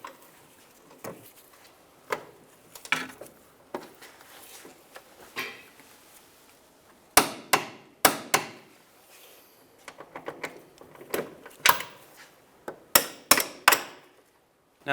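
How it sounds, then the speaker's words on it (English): 17 mm wrench and socket working the rear upper control arm bolts on a 2003-2011 Honda Element, giving sharp metallic clicks and clanks in irregular clusters, close and fairly quiet, with no talk. "We're going to back it up with our 17 millimeter wrench. And our 17 millimeter socket."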